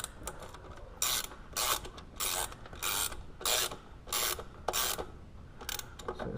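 A ratchet tightens throttle body spacer bolts on a 2015 Honda Civic Si, a close run of about eight rapid clicking bursts evenly spaced with short pauses between, and no talking.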